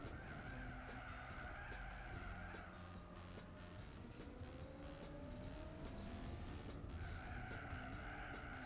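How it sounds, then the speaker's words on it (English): An old muscle car spins out in the Gran Turismo 4 racing game, with tires skidding and squealing over a steady engine drone for several seconds, faint and continuous, with no talking. "That was just a typical muscle car spin out."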